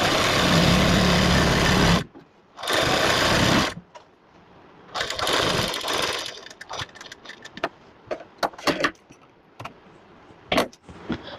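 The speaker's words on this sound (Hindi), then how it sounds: "बट मैं इस पर सीधी साइड में भी सिलाई लगा दूंगी" A sewing machine stitches the straight side of a palazzo seam in two loud, steady bursts. Quieter clicks, fabric handling and short machine runs follow. No one talks.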